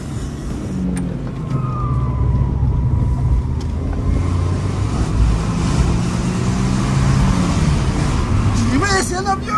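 A car engine running on ethanol revs hard and loud throughout, a continuous roar with a rising whine near the end, while people talk over it.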